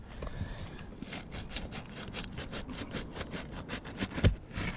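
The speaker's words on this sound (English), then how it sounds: "you can kind of see the trowel going underneath and cutting that tar line" A trowel is pushed under an asphalt two-tab roof shingle near a seam, cutting through the tar sealant line with a rapid series of rasping scrapes, close and fairly quiet, ending with a sharp knock.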